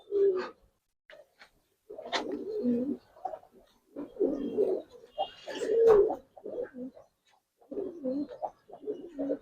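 Giribaz aluminium silver pigeons coo in a loft, a series of low, throaty, rounded calls coming in short bursts with quiet gaps between them, near and clear.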